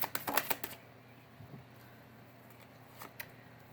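A deck of tarot cards is shuffled in a brief burst of crisp, rapid riffling clicks at the start, followed by quiet with a faint tap or two later.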